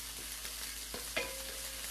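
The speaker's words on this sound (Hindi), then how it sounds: "थोड़ा धनिया आप तेल में फ्राई कीजिए" Coriander fries in oil in a pan on a Nesco induction cooktop, a continuous even sizzle with a few soft stirring scrapes and a brief clink, no speech.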